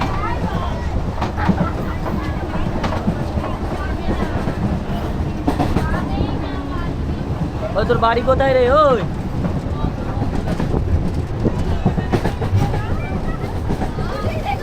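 A moving passenger train rumbles and rattles steadily with clickety-clack from the rails, while people talk loudly nearby throughout.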